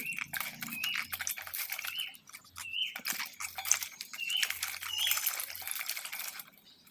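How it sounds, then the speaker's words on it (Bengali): Okra is swished and rinsed by hand in a container of water in a home kitchen, giving close splashing, dripping and trickling sounds in uneven bursts. "তাই ভেন্ডিটা ধুয়ে নেব ভালো করে আমি।"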